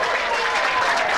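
A crowd applauding at a 1996 Brunswick World Team Challenge bowling match in St Paul, Minnesota: dense, continuous clapping, loud and close, without a break.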